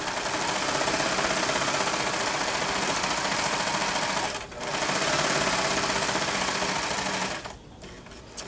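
A serger sewing machine stitching fabric for an appliqué Halloween table runner runs loud and continuous with a fast mechanical whirr, pausing briefly twice before resuming.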